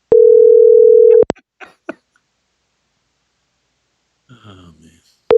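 A ringback tone plays for an outgoing phone call over a car's Bluetooth, a loud steady beep lasting about a second that comes back near the end, with a cough and brief mumbling between the tones.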